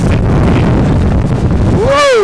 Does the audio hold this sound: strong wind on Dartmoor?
yes